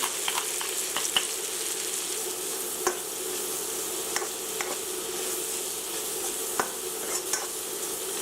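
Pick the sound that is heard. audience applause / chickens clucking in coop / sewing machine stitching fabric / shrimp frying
shrimp frying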